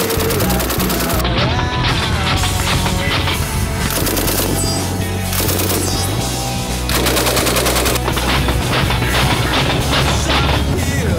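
A Russian DP-28 (DPM) light machine gun fires rapid bursts, loud and dense, over music playing throughout.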